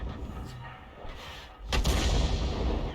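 A tank cannon fires in a video game, one heavy booming blast about midway through that rolls on with a rumbling tail above faint background noise.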